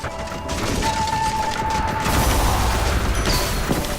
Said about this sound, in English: That was a strategic use of my bomb.